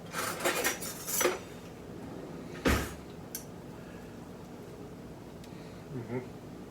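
Metal cutlery clatters and clinks in a home kitchen during sauerbraten cooking: a few bright rattles early on, then one sharp clank in the middle and a softer knock near the end, with quiet talk around them.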